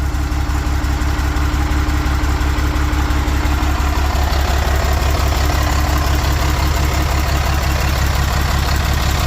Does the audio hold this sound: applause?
no